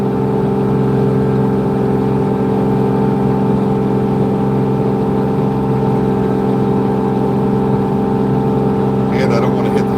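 A Kubota LX2620 HSDC tractor plows in strong wind, its engine holding a steady, loud drone throughout with a constant rushing undertone.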